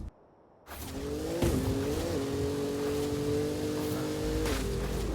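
A level 7 Bronco driving in a battle-royale video game, a steady engine drone that shifts pitch slightly as it revs, starting after a brief quiet moment and staying loud throughout.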